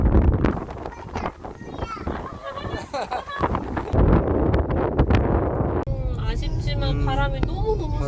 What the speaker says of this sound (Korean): 아쉽지만 바람이 너무 바람이 세서 너무 많이 불어서.